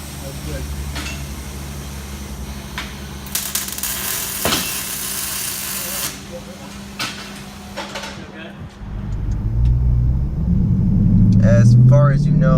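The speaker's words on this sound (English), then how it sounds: "the car sounds amazing now." Dodge Demon with the mid muffler deleted, idling with a low rumble and then revving up loud and close near the end, after clanking shop noises and people talking.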